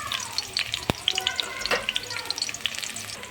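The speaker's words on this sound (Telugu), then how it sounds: "అదే ఆయిల్లో కట్ చేసి పెట్టుకున్న ఒక ఉల్లిగడ్డ ముక్కలు వేసుకోండి. వేసుకొని లైట్గా ఫ్రై అవ్వాలి." Onion pieces dropped into hot oil used for tomato pachadi, frying with a lively crackling sizzle and scattered pops, plus one sharp clack, fairly close and without talk.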